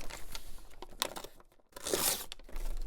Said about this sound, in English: Let's cut this out as well.